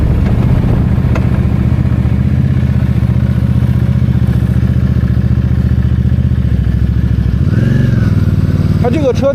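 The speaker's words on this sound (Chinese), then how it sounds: "这个车在怠速的时候，我觉得状态还不错" A Benda Napoleon 450 motorcycle idles with a steady, low, throbbing engine rumble at close range, then briefly revs up near the end, while someone talks over it.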